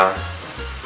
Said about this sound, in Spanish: ya podemos añadir la cebolla y el puerro. Lo dejamos pochando todo.